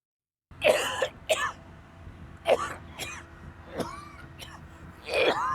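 Several harsh coughs come in bursts with short pauses between, close and loud, and a voice is heard between them.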